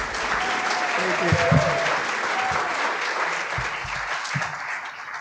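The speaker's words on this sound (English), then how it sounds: "Let's give a big round of applause to Tim Baird." Sustained applause from a crowd at a welcome reception at the University of San Diego, steady clapping throughout with a few scattered voices and brief whistles mixed in.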